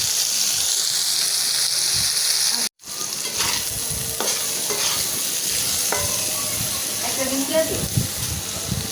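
Eggplant frying and being stirred in a hot pan, a continuous sizzle broken by a brief cutout, with scraping stir strokes and spatters; a voice is faintly present underneath.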